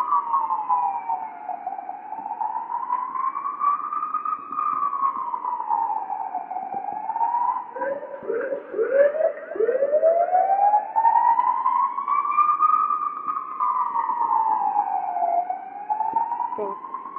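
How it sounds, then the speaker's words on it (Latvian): A loud, close siren wails up and down in long repeating sweeps, briefly broken by a burst of jumbled tones partway through. "ātrie vai policija vai ko."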